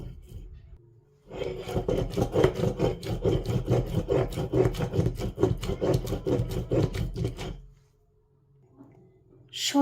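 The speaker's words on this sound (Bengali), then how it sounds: "এখানে পাটাই পিষে ধনিয়া পাতার কিছু ভর্তাও বানিয়ে নিচ্ছি" Fresh garden coriander leaves are ground on a stone slab for a mash, a steady back-and-forth scraping and rubbing that runs for several seconds up close and then stops, with no talking.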